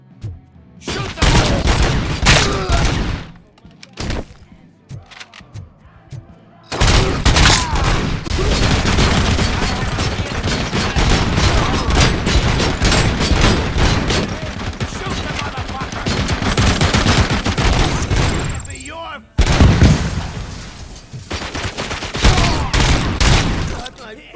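Gunfire in the video game RoboCop: Rogue City comes as loud, dense fusillades and rapid bursts that fill most of the clip, with brief pauses between volleys and voices shouting over the shooting.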